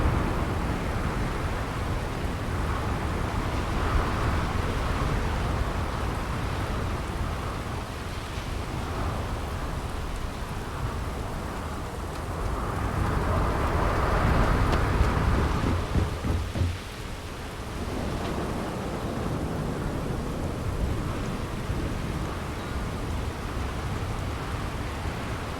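A heavy thunderstorm in Starfield near a lightning-powered city: steady loud rain roaring throughout, with deep rolling thunder swelling around the middle before easing back into the downpour.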